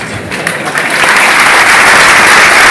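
A conference audience at an engineering school in Rabat breaks into loud, dense applause that builds and holds strong to the end.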